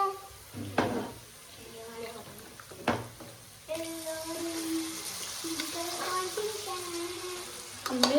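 Masala and mutton sizzling in a pan for a mutton gravy and chukka, a steady fry hiss with stirring scrapes and clatter, under a voice talking, growing louder partway through.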